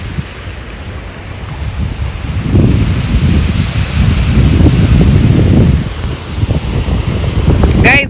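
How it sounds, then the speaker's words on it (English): Ocean waves and wind at the shore on Mamangina Drive, a broad, loud rushing roar that builds and holds, with gusts buffeting the microphone. "let me show you guys the ocean."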